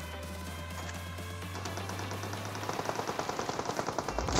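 Rapid gunfire in PUBG Mobile, a steady run of sharp shots that grows louder over a low droning background with a continuous game soundtrack, no voices present.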